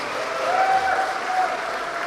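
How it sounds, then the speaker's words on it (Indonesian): Audience of university staff and lecturers applauding at an event hall, a steady burst of dense clapping that fills the short stretch at moderate loudness. "Tepuk tangan buat kita semua."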